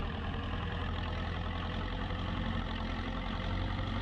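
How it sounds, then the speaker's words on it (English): A Zetor tractor engine runs at a steady, loud, even drone with a low rumble, unchanging throughout. "I remember the sound of specifically this Zitter tractor"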